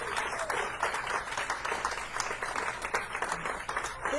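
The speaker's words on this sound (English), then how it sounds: "let's give him a big round of applause" A crowd at a conversation event gives a steady round of applause, many hands clapping in a dense, moderately loud patter that continues throughout, with faint voices beneath.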